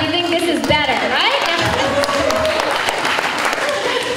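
A panel audience at a horror convention claps and murmurs steadily, with a voice speaking over the crowd at the start and tonal sounds threading through the continuous applause.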